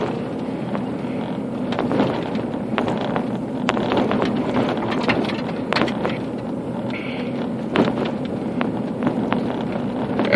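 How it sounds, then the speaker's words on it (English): Loose items rattle in a car ashtray, including a tablet charger, as the car drives along: scattered sharp clicks and knocks over a steady rumble of road and wind noise. "Here's some of that rattling sound. My tablet charger and stuff in my"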